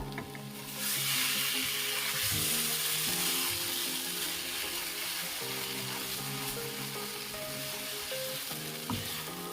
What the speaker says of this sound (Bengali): আর এখন ঢাকনা দেব না আমি এক মিনিট আর একবার কষিয়ে নিলাম